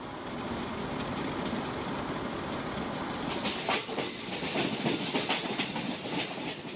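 Tazara railway train rolling along its tracks, a steady rumble of wheels and wagons with rhythmic clatter and sharper metallic clicks growing louder in the second half.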